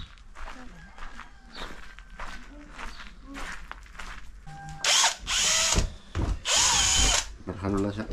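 A power drill whines in several bursts, loud and close, between quieter handling noises and footsteps, with some talking underneath.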